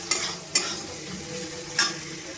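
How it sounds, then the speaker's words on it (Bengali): Onion and tomato frying in a pan with turmeric and coriander powder: a soft, steady sizzle broken by three sharp spatula scrapes as the mix is stirred. "এবার হলুদ গুঁড়ো আর ধনে গুঁড়োটা দিয়ে একটু পেঁয়াজ আর টমেটোটা ভালো করে ভেজে নেব।"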